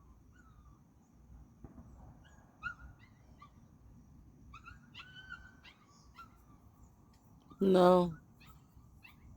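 A puppy lets out one short, loud burst of whimpering and barking near the end, close by, over a quiet room with faint background sounds and a few soft knocks earlier.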